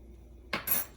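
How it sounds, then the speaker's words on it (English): A utensil scraping and clinking against a pot of milk with citric acid stirred in, two quick metallic contacts after a quiet start, close and soft. "And then I'm just going to stir."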